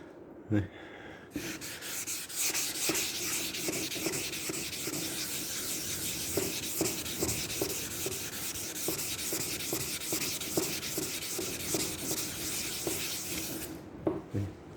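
Hand-sanding 2-pack primer on the bodywork of a Honda ST 1100 motorcycle, a close, continuous scratchy rubbing with rhythmic back-and-forth strokes, starting after a brief pause and ending in a few short knocks, with no talk over it.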